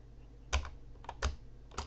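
A password is tapped out on a computer keyboard in four distinct, evenly spaced keystrokes, quiet and close, with no speech.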